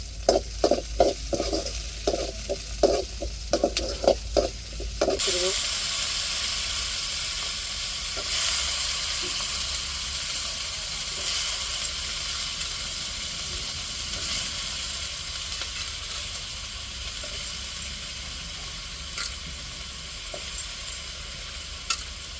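Cabbage and curry leaves sizzle and fry in a hot pan, opening with a few sharp stirring clatters before settling into a steady, close, continuous hiss with no talk.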